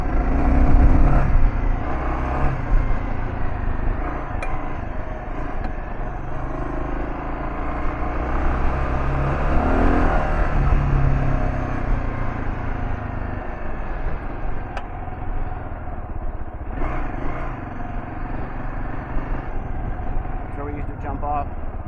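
A Kawasaki KLR650 motorcycle rides off road through bayou country, its engine droning steadily and loudly throughout with wind and rough-terrain noise mixed in.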